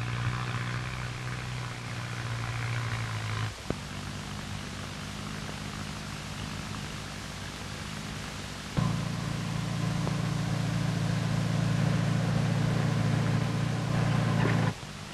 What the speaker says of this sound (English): More than likely it's to buy him a new tractor. Probably one just like this.